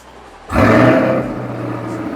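A Corvette's 6.2-litre V8 petrol engine cranks and fires up with a loud roaring burst, then settles into a deep, steady idle rumble.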